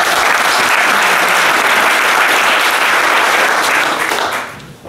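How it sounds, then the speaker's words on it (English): Sustained, loud audience applause fills a talk on smart contracts and blockchain, dense, steady clapping that fades toward the end. "big round of applause for Peter in case."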